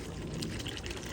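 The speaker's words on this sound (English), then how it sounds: "let's go ahead and add our water" Water pours steadily into a pot of Hungarian bean stew with short rib, a brief, soft, continuous rush of liquid with no voices.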